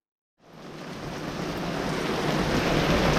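Heavy rain on a road during a road trip, a broad hissing roar that starts abruptly after a short silence and builds to a steady, loud downpour.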